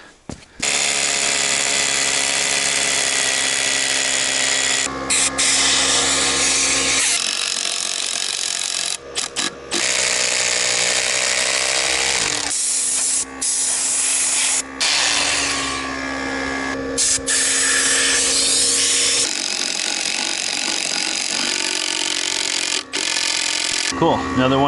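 A drill bores into a concrete slab and strikes rebar, a loud, continuous grinding whine with abrupt stops, pitch changes and brief pauses, while a voice speaks now and then.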